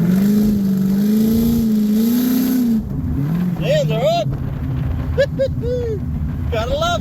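A One Tonner ute cruising with a steady mid-pitched engine drone and wind rush throughout, its tone rising and falling slightly with the throttle; voices speak over it later on.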